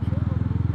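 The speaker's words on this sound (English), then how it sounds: "right now this is the exhaust note without the dB killer" A 2016 Mahindra Mojo motorcycle with its dB killer removed idles with a deep, rapid, evenly pulsing exhaust thump, close and fairly loud throughout.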